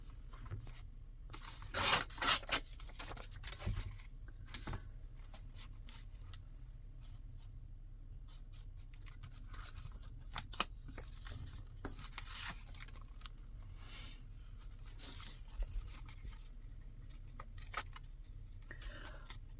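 Paper being torn by hand while working in an autumn journal, with several sharp ripping bursts early on followed by scattered softer tears, rustles and handling sounds, close and fairly quiet over low room hum.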